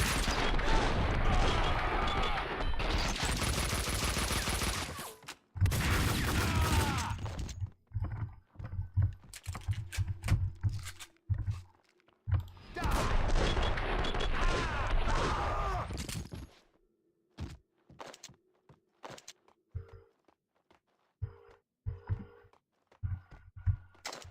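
Gunfire in the video game Max Payne 2 comes in loud, dense bursts and sharp single shots, mixed with game effects, quieter footstep-like clicks and gaps, and no clear talk over it.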